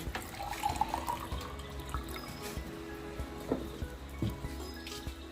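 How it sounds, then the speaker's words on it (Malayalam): Water poured into a glass for a simple science demonstration with pencils: a quiet trickling splash with a few drips over soft background noise, and no speech. "അതിനുശേഷം ഒരു ഗ്ലാസ്സിലേക്ക് അല്പം വെള്ളം ഒഴിക്കുകയാണ്."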